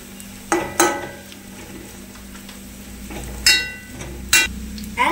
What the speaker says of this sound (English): Onions have been browned down, so let's add the crushed chili.